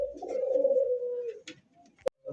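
A close pigeon from a colourful breeding pair for sale gives a long, clear droning coo that fades out, followed by a few soft scuffles and a sharp click.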